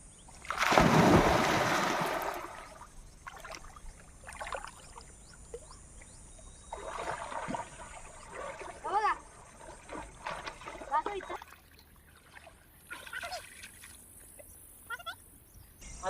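A person swimming in a deep village river in the morning, with a loud burst of water splashing at the start, then scattered smaller splashes and trickles while voices talk and call out nearby.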